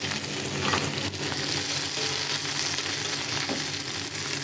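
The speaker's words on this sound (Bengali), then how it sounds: "পেঁয়াজগুলো একটু বাজা হয়ে গেলে মাংসটা দিয়ে দিই" Onions sizzle and crackle in hot oil, a dense continuous frying hiss, close and steady throughout with occasional stirring.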